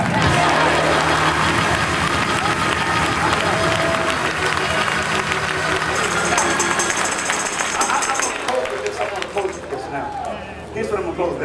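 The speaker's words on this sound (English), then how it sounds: "Clap your hands and get out of here alive." A church congregation claps and cheers during a funeral sermon in Oakland, California, a loud, dense crowd sound with shouting voices and music mixed in, thinning and fading toward the end.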